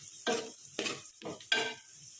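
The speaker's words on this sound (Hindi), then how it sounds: "ये गर्म हो चुका है, इसमें प्याज शामिल कर देती हूँ।" Onion dropped into hot cooking oil and stirred in a pan, giving four close, distinct bursts of sizzling and scraping separated by short quieter gaps.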